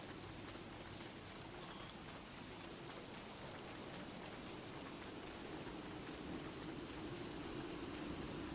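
Continuous rainfall in the video game Don't Starve Together, an even, steady hiss of rain at moderate level with no voices over it.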